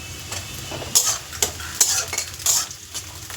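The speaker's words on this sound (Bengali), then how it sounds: "পেঁয়াজ আমার খুব লাল করে ভাজাই হয়ে গেছে" Onions and green chillies fry until deep red, sizzling in a pan while a utensil scrapes and stirs in several sharp strokes, close and fairly loud.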